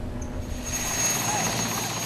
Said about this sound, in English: helicopter forced to land on the highway